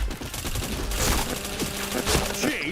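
Rapid gunfire and headshot hits in a first-person shooter game, dense bursts of shots with sharp impacts, loud and continuous, with a voice talking briefly underneath.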